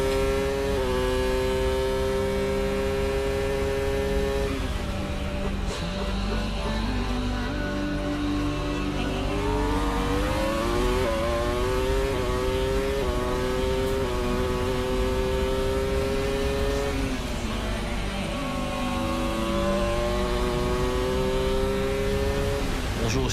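Formula One race cars on track, Villeneuve and Schumacher battling: a continuous loud engine roar whose pitch climbs and falls through gear changes, with multiple engines layered together.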